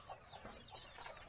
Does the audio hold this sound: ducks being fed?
yes